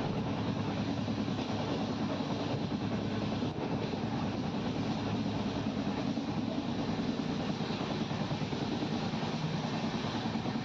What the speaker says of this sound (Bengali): ট্রেনের মধ্যে এত নড়ছে